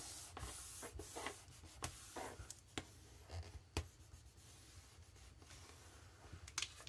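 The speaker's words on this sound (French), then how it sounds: "je marque bien le pli" Paper is creased into a fold for a handmade mini album, heard as close, soft rubbing and scraping strokes with sharper taps in between.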